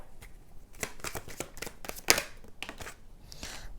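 A deck of tarot-style cards is shuffled by hand for a pick-a-card reading, giving a close, quiet series of soft riffling flicks and slaps, with one sharper snap midway.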